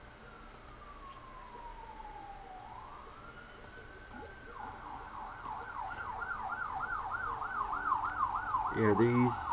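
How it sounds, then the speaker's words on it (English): Sirens in the colony-building video game RimWorld: a tone sweeps slowly downward, then rises into a fast, repeating wail that grows louder toward the end, with faint clicks scattered throughout. "these sirens can be kind of annoying"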